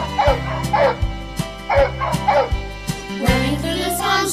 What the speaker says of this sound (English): Louisiana Catahoula Leopard Dog